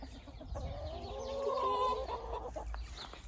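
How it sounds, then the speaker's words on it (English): A chicken clucks and warbles close by in a short run of throaty notes, fairly soft against a quiet outdoor background. "Say hi to the chicken."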